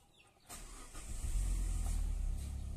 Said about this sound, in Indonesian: kita cek selanjutnya guys dengan menghidupkan mesinnya